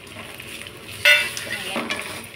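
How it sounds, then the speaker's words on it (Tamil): Ginger garlic paste goes into a pan of golden fried onions with a sudden hiss, followed by a soft sizzle and the scrape of stirring, fairly close and with no talk. "இஞ்சி பூண்டு பேஸ்ட் போட்டுக்கலாம்."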